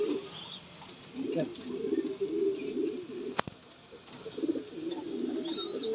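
A black lakkha Indian fantail pigeon gives soft, repeated throaty coos close by, with a sharp click partway through and faint chirps in the background.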